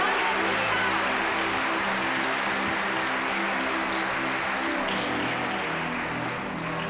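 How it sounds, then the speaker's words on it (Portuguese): A church conference congregation applauds in a dense, steady wash of clapping that fills the whole stretch, with sustained musical tones and a low hum running underneath. "você pode aplaudir mais uma vez"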